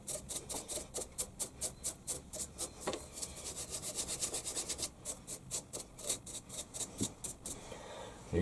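A brush scrubs out the scroll of a Warco lathe chuck, the scroll turned with a chuck key and the bristles sprayed with WD-40. Rapid, rhythmic close-up rasping strokes run in bursts throughout, with no talk.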